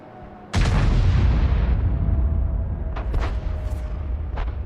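A tank gun in a video game firing a shell: one sudden loud blast that rolls into a long, rumbling decay, followed by fainter thuds and clanks.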